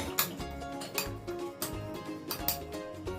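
Spoon clinking and scraping against a bowl while masala spices are stirred together with coconut oil for Kerala-style Payyoli chicken fry, a steady series of close, light metallic taps and clinks with no talking.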